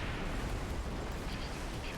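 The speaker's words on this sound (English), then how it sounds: "Detecting multiple explosions. Extensive damage accomplished." Explosions in the ScreamRide video game make a continuous dense rumbling roar of blasts and crumbling debris, loud and unbroken for two seconds.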